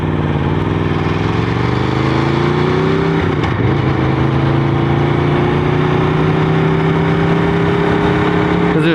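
A Kawasaki H2 motorcycle being ridden, its engine droning loud and steady throughout with a slight rise in pitch partway through, under wind rush and a rider's voice.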